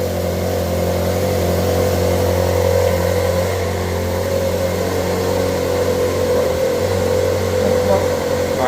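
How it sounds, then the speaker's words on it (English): A 2013 Ferrari 458 engine runs steadily just after starting, with a constant loud mechanical drone and hum throughout, the heater blower on full during a coolant change. "so we've just started the car"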